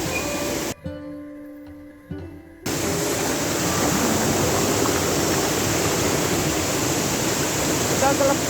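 The waterfall at Chaulabhaja gives a steady, loud, broadband rushing roar that drops out briefly near the start and then continues unbroken.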